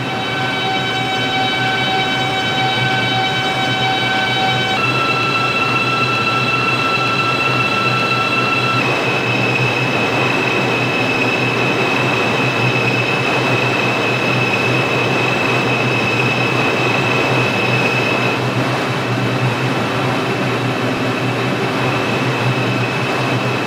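Loud continuous rumble of a New York line 6 subway train in Subway Simulator, with rising whining tones from the motors as it pulls away from Morrison Avenue–Soundview and keeps rolling.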